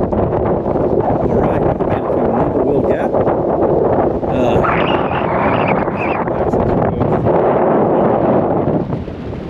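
Strong wind on the Appalachian Trail in Georgia buffets the microphone in a continuous loud roar and rumble, with faint voices mixed in.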